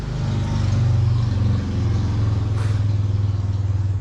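Cars racing close by, giving a loud, continuous engine drone that holds steady with slight swells throughout.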